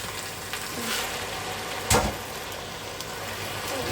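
Enoki mushrooms stir-frying in a pan, a continuous close sizzle with one sharp scrape of the spatula midway.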